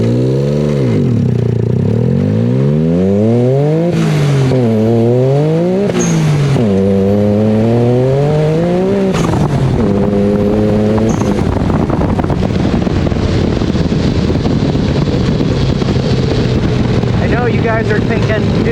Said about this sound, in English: Mild flat foot shifting.